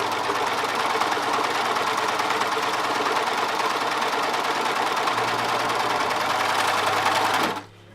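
A Singer-style 1034D serger runs steadily while stitching cotton or stretch fabric, its fast even motor whir and needle clatter holding loud and close for about seven seconds before stopping abruptly.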